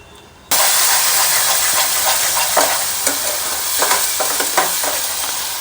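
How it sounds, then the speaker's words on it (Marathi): Mutton masala with turmeric and salt hits hot oil with a sudden loud sizzle, then a continuous hissing fry with scattered sharp crackles and pops, close and strong with no talk. "आता हे सर्व मिश्रण या ठिकाणी आपल्याला तळून घ्यायचं आहे"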